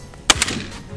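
An air rifle fires a single pellet at a rock pigeon, a sharp crack close by followed by a fainter second report and quiet afterward.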